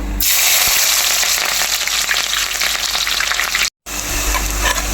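Garlic, ginger and green chillies frying in hot oil for a beetroot lemon pickle, giving a loud, steady, close sizzle that runs throughout with one brief cut near the end.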